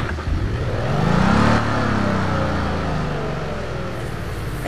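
An Audi car engine in the racing game Test Drive Unlimited 2 revs up, its pitch sweeping upward, then settles into a steady, loud drone.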